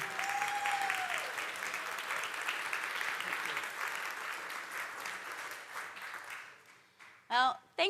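An audience applauds a speaker being welcomed onstage at a short-term rental investing event, a dense, sustained wash of clapping that slowly thins and fades near the end, followed by a brief voice.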